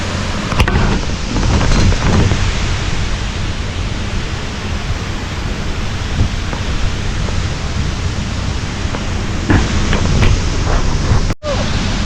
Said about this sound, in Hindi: काफ़ी खूबसूरत फव्वारा पानी का दिख रहा है यहाँ पे।